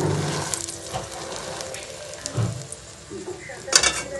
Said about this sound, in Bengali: এবার ডিম দিচ্ছি। রুটিগুলো উপর দিয়ে দিই।